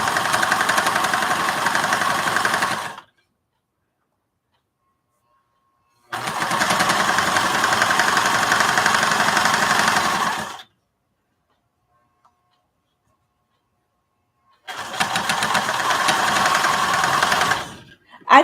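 An old sewing machine with a big needle stitches denim in three bursts of rapid, even mechanical ticking, close and loud, separated by silent pauses.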